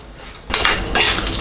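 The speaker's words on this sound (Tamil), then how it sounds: "இதை வந்து நல்லா வறுத்துக்கலாம்." A spoon scraping and clinking against a pan while stirring turmeric and chili powder as they roast, two loud bursts of metallic scraping close up.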